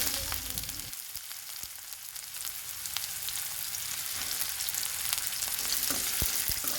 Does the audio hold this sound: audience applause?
no